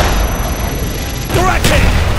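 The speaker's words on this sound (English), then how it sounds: "BF-143, beginning bomb run." Heavy explosions from a bomb run roll through a Call of Duty: Black Ops battle, with a dense rumbling barrage and a sharp blast near the end, loud against a continuous noisy wash, with a brief voice cutting in.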